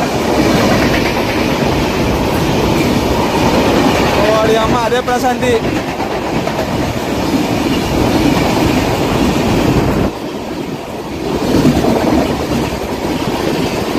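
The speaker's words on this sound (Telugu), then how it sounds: "ఇక్కడ ఏదో ట్రైన్కి ఓవర్టేక్ ఇచ్చాడు" A train on railway tracks, passing during an overtake while another train waits, gives a loud, continuous rumble with clickety-clack wheel rhythm and brief squeals, close by; a person speaks briefly over it.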